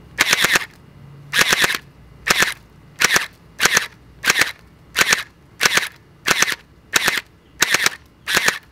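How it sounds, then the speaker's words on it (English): A gel blaster submachine gun fires eleven separate sharp bursts at a steady rhythm during a velocity test, each crackling report loud and close with brief silences between shots. "FPS test for the submachine gun."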